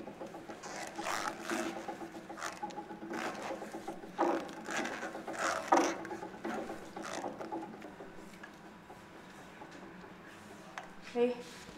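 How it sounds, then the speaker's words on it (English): An etching printing press rolls under heavy pressure across the back of an inked plate, giving a steady mechanical grinding and clicking with irregular knocks, at a moderate level close by. "the rolling mechanism here exerts enormous pressure onto the back of the plate"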